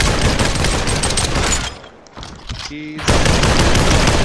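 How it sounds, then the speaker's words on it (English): Rapid bursts of gunfire from Population: ONE, a VR shooter, crackle loudly and densely, dropping out briefly mid-clip before resuming at full intensity, with a voice speaking briefly over the shots. "I hear you shooting"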